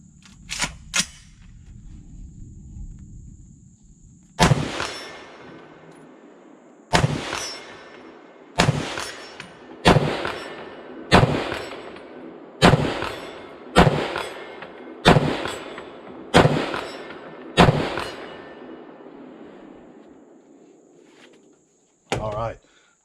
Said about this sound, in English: Let's shoot some steel because I love to hear the steel ring.